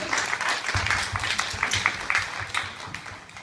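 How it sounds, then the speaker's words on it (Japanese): An audience at an improvised music performance breaks into steady, fairly close applause, dense clapping continuing evenly throughout with a faint voice briefly underneath. "皆さん拍手"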